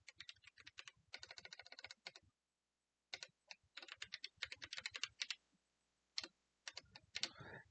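Typing text on a computer keyboard, close and clear: rapid bursts of key clicks separated by short pauses, with no voices.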